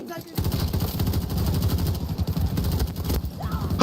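Rapid automatic gunfire in a shooting video game, a continuous crackling volley of close shots that runs almost the whole time, with a brief pause before the burst begins and a faint voice near the end.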